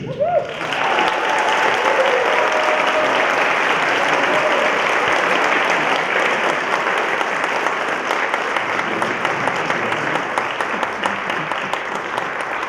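Concert audience at a high school band and wind ensemble performance breaking into sustained, loud applause that fills the hall, a dense wash of many hands clapping for over ten seconds after a brief voice at the start.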